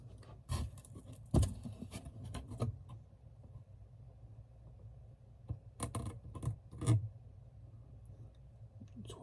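Scissor blades scrape and score the inside of a cardboard mailing box in two clusters of scratchy, uneven strokes, close up and fairly quiet, with a lull of near silence between them.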